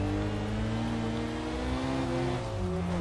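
Car engine revving in the racing video game Tokyo Xtreme Racer Drift 2, a loud sustained drone with gear-shift pitch changes near the end, heard alone.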